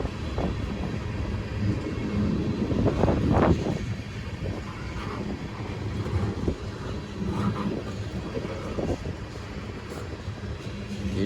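A freight train of small tank cars rolls past slowly nearby, a steady rumbling roar with wind buffeting the microphone and occasional clanks.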